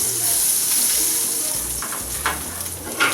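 A snapper fillet sears in oil in a frying pan, giving a close, steady, dense sizzle that crackles on throughout, with a few brighter spits near the end.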